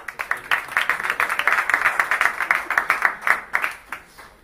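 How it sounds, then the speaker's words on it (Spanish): A small audience at a live gin-distilling session claps for Joao, a quick rhythmic burst of distinct, close claps that builds, holds steady, then trails off near the end. "Un aplauso para Joao, que tiene una like."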